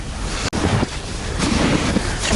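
Cold north wind at minus 14 degrees gusts steadily across a bare Arctic riverbank near fishing nets, a broad rushing roar with swells of buffeting against the microphone and one brief dropout.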